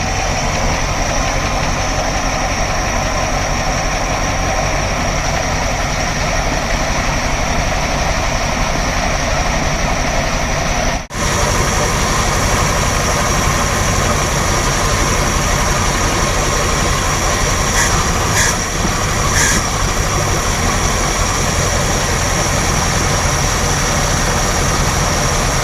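An abandoned 1978 Dodge Ramcharger, revived after 17 years and running on fuel fed into the carburetor bowl, idles loud and close in a steady rumble, with a brief dip partway through before it settles back to a rough, continuous idle.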